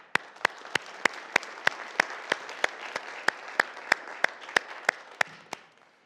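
A group applauds steadily, with sharp, evenly spaced claps standing out on top of the crowd's clapping, which thins out at the very end.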